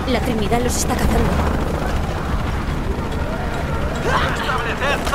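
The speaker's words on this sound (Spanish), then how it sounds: "Helicópteros." Attacking helicopters roar in Shadow of the Tomb Raider, a dense, loud, continuous rumble with bursts like gunfire. Voices talk over the noise throughout.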